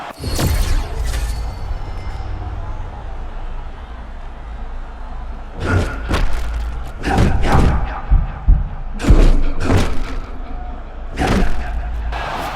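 Punches landing in EA Sports UFC 6, a Max Holloway versus Jalin Turner bout: a string of heavy thuds and slaps in clusters over a steady low game backdrop, close and punchy.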